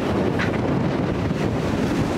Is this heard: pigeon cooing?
no